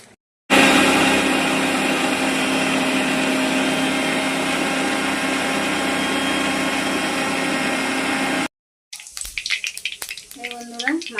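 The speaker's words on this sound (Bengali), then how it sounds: "তারপর দিচ্ছি গরম মশলা। এটা আমি এবার মিক্সিতে বেটে নেব।" Kitchen mixer grinder pulverizing whole garam masala spices: a loud, continuous whirring roar for about eight seconds that stops abruptly, followed by clattering and softer kitchen noises.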